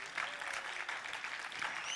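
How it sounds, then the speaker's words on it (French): A live audience applauds a drummer at a talent show, a short burst of full, steady clapping with faint crowd murmur underneath. "C'est Denis Jaffé qu'il faut applaudir"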